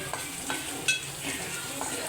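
Finely chopped onion, tomato and ground masala paste fry in oil for an egg masala, a steady close sizzle with soft stirring scrapes and a brief metallic clink.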